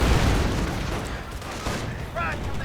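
Booby traps detonating in a real-time strategy war game, a run of muffled booms and bursts of gunfire-like cracks, with a voice talking over the battle.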